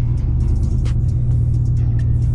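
A GMC Yukon driving along, its engine producing a steady, loud low rumble with constant road noise throughout and no talking.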